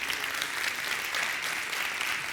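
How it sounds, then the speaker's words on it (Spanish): A large audience in a big auditorium at an agricultural fair event applauds, a dense, even wash of clapping throughout with no voices. "un fuerte aplauso"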